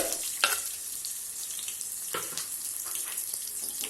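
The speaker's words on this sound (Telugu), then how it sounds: "సో ఇదంతా బాగా ఫ్రై కానీ ఒకసారి మిక్స్ చేసి ఇప్పుడు ఆనియన్ వేస్తాము." Dal and spices sizzle steadily in a pan, with a few scraping stir strokes breaking through the hiss, close and alone with no talk.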